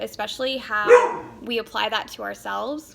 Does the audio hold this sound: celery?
no